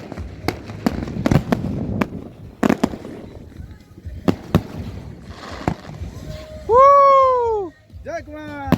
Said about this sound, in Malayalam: കടലിൻ്റെ അകത്തുള്ള വെടിക്കെട്ട്